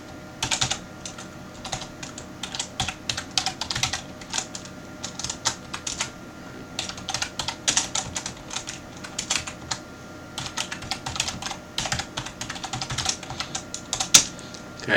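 Steady typing on a computer keyboard while writing HTML in a code editor, with irregular clusters of close, crisp key clicks running throughout and no talking.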